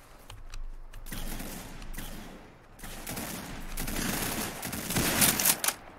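Rapid gunfire from the Roblox shooter game Arsenal rattles in dense, continuous volleys that build louder toward the end.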